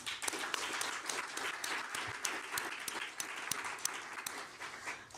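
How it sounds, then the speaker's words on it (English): Sustained applause from a large audience at a NASA science event, a dense wash of clapping with no voices over it. "please join me in yet another round of applause to celebrate them"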